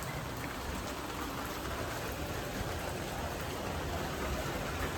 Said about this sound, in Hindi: फाइनली बारिश हो ही गई।